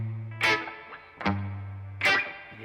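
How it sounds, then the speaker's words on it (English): An electric guitar plays through an Eventide tape delay set to quarter-note and dotted-eighth repeats plus spring reverb, with three strummed chords whose echoing tails decay between them, fairly quiet and alone. "So there's a tape delay, and it's going quarter note, dotted eighth. And then there's just a spring reverb."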